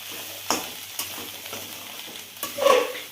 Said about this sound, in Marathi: ही भाजी जी आहे ती आपण एकदम व्यवस्थित पाच ते दहा मिनिट मंद आचेवर भाजून घ्यायची आहे